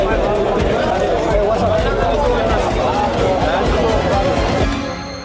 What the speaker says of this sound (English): A big crowd started to form around us.